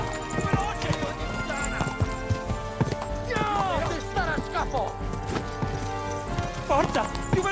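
Horse hooves clip-clop in the medieval game Kingdom Come: Deliverance II, a quick irregular run of close hoofbeats with whinny-like sounds and someone talking over them.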